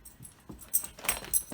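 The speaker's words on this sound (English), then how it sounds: "My dog has the zoomies." A dog with the zoomies dashes around nearby, making quick scuffling bursts and short whimpery, panting sounds in a brief, irregular flurry.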